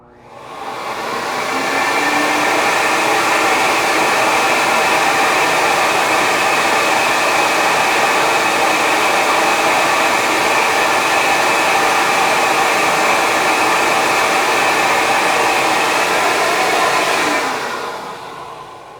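Flow bench pulling air through a MagnaFlow exhaust muffler from a Camaro ZL1 1LE with valves open, a loud steady rushing whoosh that ramps up, holds evenly for about fifteen seconds and then winds down, with no talk.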